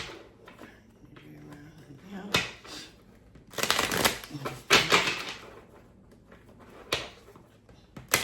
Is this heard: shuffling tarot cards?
yes